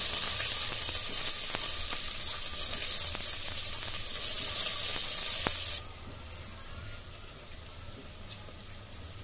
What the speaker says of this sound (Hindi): एबे पियाज पकई दउची